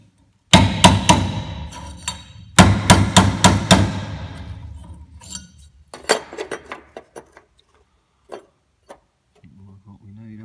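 A hammer taps a metal rust-repair patch panel into shape for a Valiant VG ute. Sharp metallic strikes come in quick close bursts of four or five, followed by scattered lighter taps and pauses.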